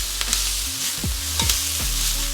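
Garlic frying in hot oil for Sri Lankan restaurant-style kottu, a steady loud sizzle with a few sharp scraping and tapping strokes over it, no voices.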